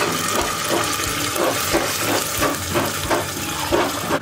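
Water pours steadily into a pan of sautéed sardines and seasonings, a continuous, loud rushing splash with no break.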